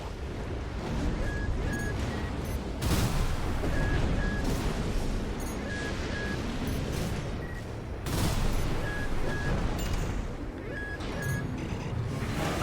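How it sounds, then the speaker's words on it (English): Short repeated electronic warning beeps from Armored Core VI: Fires of Rubicon come in pairs over loud gunfire, explosions and rumbling battle noise. "That beeping noise you're hearing sometimes is one of the most important indicators in the game."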